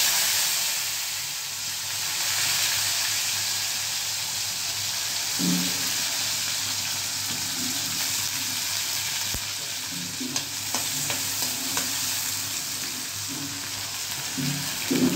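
Potatoes frying in hot oil with asafoetida, a steady sizzle and hiss with scraping stirs of a spoon breaking through near the end, close and continuous with no talk.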